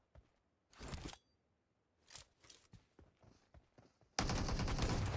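S12K shotgun fire in a PUBG Mobile esports match: several sharp broadband blasts spaced over a few seconds, with a few softer shots between them, ending in a loud sustained burst of gunfire.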